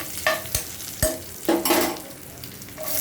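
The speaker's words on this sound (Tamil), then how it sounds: "ஒரு கொத்து கருவேப்பிலை சேர்த்துக்கிறேன்." A sprig of curry leaves dropped into hot oil with spices in a pan for a tomato curry, crackling and sizzling in bursts of sharp pops and stirring, close and moderately loud, no talk.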